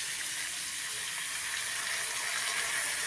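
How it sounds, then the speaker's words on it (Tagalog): Water is poured into coconut milk simmering with winged beans, giving a continuous, even hiss and rush like running water and sizzling that holds steady throughout, with no voices. "Lagyan po natin ng konting tubig habang tayo nagpapaga."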